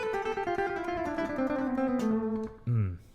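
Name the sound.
electric guitar pull-off minor scale exercise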